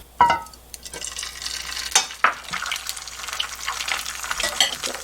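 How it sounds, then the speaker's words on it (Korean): An egg fries in oil in a hot pan, sizzling and crackling steadily, with a few sharp clinks of a utensil against the pan. "제가 계란 한 개를 후라이 하겠습니다."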